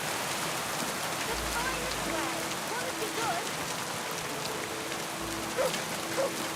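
Rain falls steadily in the video game Kingdom Come: Deliverance II, a constant close hiss of drops hitting the ground while people talk over it.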